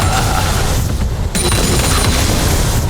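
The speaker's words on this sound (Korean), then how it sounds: "갱플랭크의 폭탄 세례" Gangplank's bomb barrage in League of Legends, a dense, loud rumbling wall of overlapping explosions and booms continuing without pause for a few seconds.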